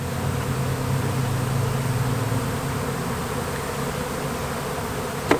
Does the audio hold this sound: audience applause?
no